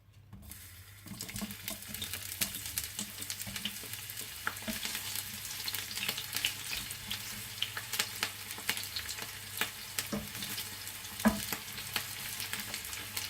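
Oil frying in a heated pan (kawali) while cooking chicken curry, a steady close sizzle and crackle with stirring scrapes and occasional sharper pops, no talking.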